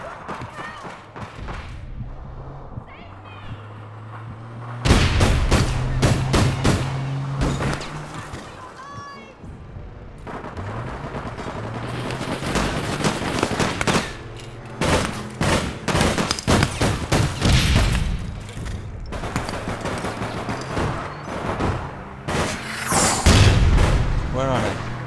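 Repeated gunfire in the online shooter APB Reloaded, sharp bursts of shots and booming impacts coming in clusters, loud and close, with people talking between and over the shots.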